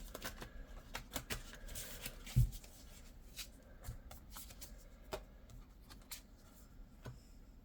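Oracle cards shuffled by hand, a run of soft riffling and sliding card flicks with a louder tap partway through, close and quiet with no talking.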